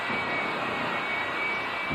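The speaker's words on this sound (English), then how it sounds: "The car is powered by a J34 Westinghouse jet engine" A J34 Westinghouse jet engine powers the Smith Brothers jet Honda funny car at a 1987 drag racing event, and its steady, loud, hissing roar holds continuously with no talking.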